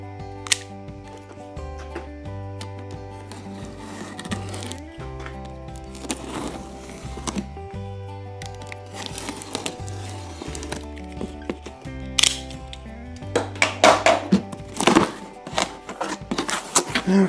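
Cardboard box being opened and a pancake air compressor unpacked, with irregular thumps, scrapes and rustling of packaging close by, growing busier toward the end; no talking.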